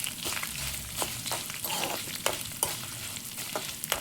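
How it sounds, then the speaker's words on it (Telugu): Dried red chillies fry in hot oil for a tempering, giving a close, steady sizzle broken by repeated scraping stirs of a spoon in the pan. "ఎండుమిర్చి ఫ్రై అయిపోయినాయి."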